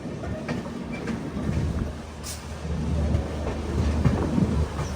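The Shraddha Sethu Express rolls into platform 6 at Chennai Egmore station with a steady low rumble and faint wheel clatter that slowly swells louder, with no voices.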